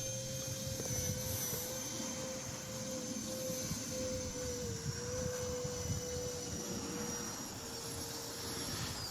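A radio-controlled model airplane lands on a long striped runway, its steady engine whine holding at a constant pitch over a continuous rumble of wind and outdoor noise, fairly faint and with no voices.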